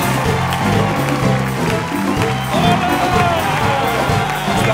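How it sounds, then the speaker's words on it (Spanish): Studio audience on a Mexican late-night talk show applauding and cheering to welcome guests, a steady loud wash of crowd noise with music underneath throughout. "Un aplauso para Ricardo Silva y Kerry Cahill."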